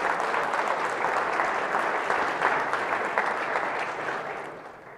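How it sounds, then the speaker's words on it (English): Sustained audience applause fills a university lecture hall after a speech, a dense, steady wash of clapping hands that tapers slightly toward the end, with no voices over it. "give him a round of applause."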